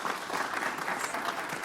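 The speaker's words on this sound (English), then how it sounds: "I'm going to ask the group here a round of applause for Maria on all that effort." Steady applause from a sizable audience, a dense continuous patter of clapping at moderate distance with no voices over it.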